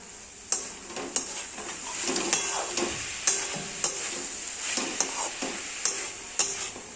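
Banana flower curry being stirred in a frying pan, with a steady sizzle and a crisp scrape of the spoon against the pan about once a second. It is close and clear, and no one speaks.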